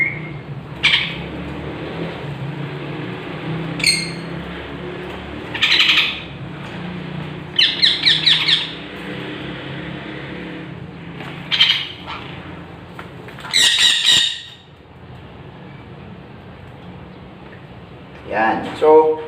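A parrot being trained for free flight lets out repeated sharp squawks and short calls at irregular intervals, loud and close, with a person talking softly in between.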